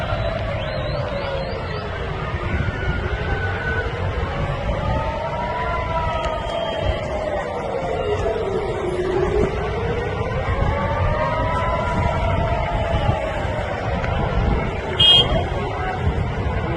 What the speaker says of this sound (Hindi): רק אזעקה בתל אביב, רק אזעקה